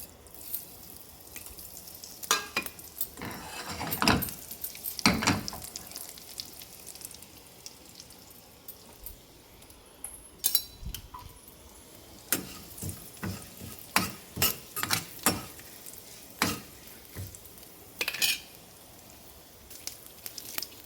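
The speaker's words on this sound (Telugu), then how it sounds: "ఈ పోపు ఇందులో వేసేద్దాం." A tempering of cumin and dried red chillies sizzles in a pan, giving a faint hiss broken by scattered louder stirring and scraping knocks. No one speaks.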